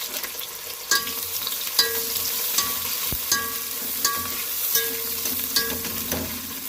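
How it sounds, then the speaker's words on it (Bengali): Long-sliced onions frying in oil and ghee for a chicken dish, a close, even sizzle punctuated by regular spatula scrapes and taps against the pan every second or so, with no voices. "পেঁয়াজটা লাল লাল ভেজে নেব, লাল লাল করে।"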